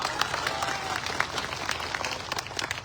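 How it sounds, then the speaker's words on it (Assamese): Crowd clapping at a political rally in Chenga, a dense burst of applause from many hands with sharp individual claps, moderately loud and sustained over the whole stretch. "যদি ভাবে তেতিয়াহ'লে এটা হাত তালি বজাওক না"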